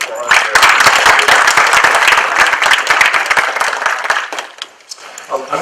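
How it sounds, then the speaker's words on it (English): Audience applause at the Shenzhen Assembly 2016 conference: a dense, loud round of many hands clapping that thins and fades toward the end, with some voices mixed in. "So Lu Ping, just round of applause."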